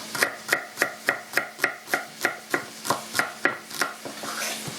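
Knife chopping celery on a cutting board while making chili: about a dozen crisp, evenly spaced chops in a steady rhythm, close and clear, then a softer rustle at the end.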